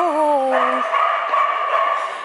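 Puppies at an animal shelter yipping and whining in high, overlapping cries, close and loud, with several small voices sounding at once.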